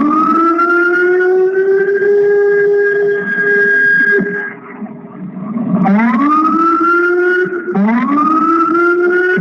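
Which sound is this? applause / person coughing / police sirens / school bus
police sirens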